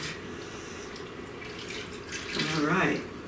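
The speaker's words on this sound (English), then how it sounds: "you need 4 cups of whole milk. So I'm gonna pour it right on the top of here." Whole milk is poured over a dump-and-bake mac and cheese casserole, a soft liquid splash and trickle that swells near the end, with a person talking over it.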